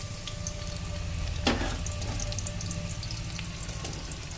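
Onions fry in oil in a wok with a steady close sizzle, broken by one sharp stirring scrape partway through; no one speaks.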